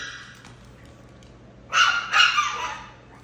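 Schnauzer dogs playing with puppies: two short, close bursts of barking or yipping, each about half a second long, in otherwise quiet surroundings.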